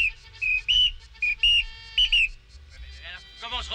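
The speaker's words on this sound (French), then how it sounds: "il n'y a que lui qui s'exprime à ce sifflet" A whistle stands in for speech in a French film comedy scene, sounding in short melodic phrases of varied pitch and length, with quiet voices and other sounds rising toward the end.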